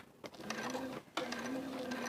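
A sewing machine slowly stitches a quilt with a steady, fairly quiet whirring hum, broken by a brief pause before it runs again.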